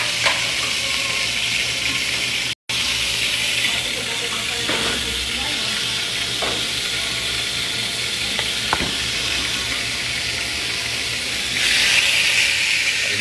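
Food sizzles steadily on a hot restaurant griddle, a loud, constant frying hiss with a few faint clinks and utensil taps, and no talk heard over it.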